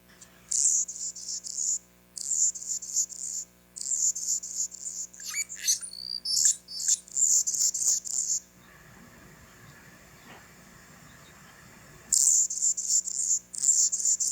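An Anna's hummingbird sings a repeated series of high, scratchy buzzing phrases with short gaps, pausing for a few seconds of quiet room hum before the song returns, with no talking.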